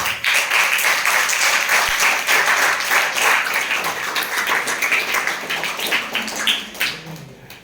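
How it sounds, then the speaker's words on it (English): Loud, continuous clapping from a crowd of students at a school morning assembly, a dense steady wash of many hands that thins slightly toward the end. "morning assembly with loud clapping"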